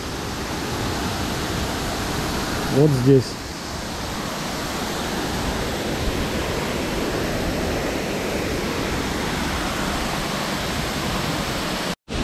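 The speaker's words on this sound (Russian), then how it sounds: "И водопад уходит вниз." A waterfall in Abkhazia roars as a steady, loud wash of water from start to finish, with a brief spoken phrase early on.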